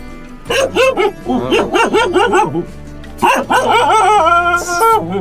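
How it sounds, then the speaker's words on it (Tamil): A dog barks repeatedly inside a house, loud and close, in uneven bursts of yelping barks with short pauses, rising into higher whining barks near the end. "மாப்பிள்ளை வீட்டு உள்ளே தான் நாய் கத்திட்டு இருக்கு"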